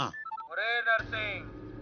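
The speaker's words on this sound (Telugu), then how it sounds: "మాచిరాజు ఫోన్." A phone ring tone plays briefly as a short electronic melody in a Telugu film comedy scene, followed by a steady tonal hum, with a voice at the start.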